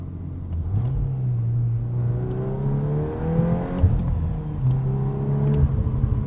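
A 2022 Volkswagen Golf R with a six-speed manual, in drift mode, revs and pulls from inside the cabin, its steady engine drone rising and falling in pitch as the throttle snaps open.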